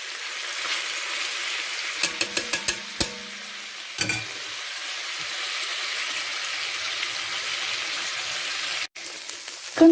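Chicken escalopes frying in a pan, a steady close sizzle with a few sharp clicks and knocks early on, then a sudden brief cutoff near the end before the sizzle resumes.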